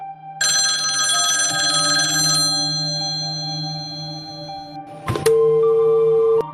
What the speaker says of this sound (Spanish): cuando sonó el teléfono